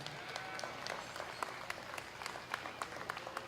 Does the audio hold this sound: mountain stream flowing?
no